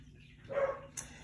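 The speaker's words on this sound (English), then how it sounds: "playing with the dog right now, so she's being really loud" A pet dog gives a short, quick bark while playing indoors, brief and somewhat distant, followed by a faint scuffle.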